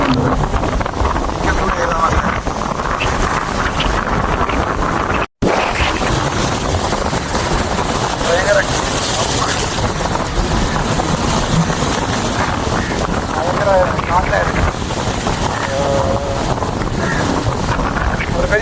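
Strong wind buffets the microphone near boats moored at sea, a loud continuous roar with water slapping against hulls, under occasional distant voices.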